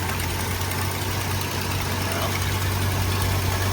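A 1965 Ford Falcon engine with a freshly rebuilt single-barrel FoMoCo carburetor idles steadily up close, a low, even rumble running unbroken and alone throughout.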